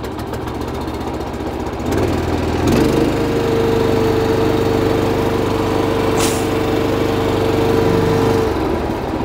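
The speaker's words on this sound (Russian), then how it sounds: "и заведет трактор." A small diesel engine on an MTZ Belarus 152N compact tractor cranks and starts, then runs at a steady, loud, close idle with a rattling chug and a constant whine.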